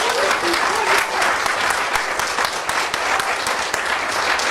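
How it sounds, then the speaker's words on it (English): Sustained applause from an audience after a story is told in a stage show, dense and steady clapping at fairly close range with no talk over it for several seconds. "Give her a round of applause."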